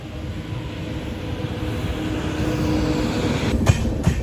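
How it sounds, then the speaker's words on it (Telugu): A goods train passes by a Kamrup Express passenger train on the Dibrugarh–Howrah line with a steady, loud rolling rumble, with a couple of sharp knocks near the end. "Goods ట్రైన్తో cross over."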